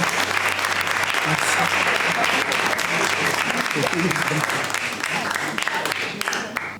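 Studio audience at a singing show applauding a performer, dense and loud continuous clapping with some crowd noise mixed in, holding steady before tapering slightly at the end.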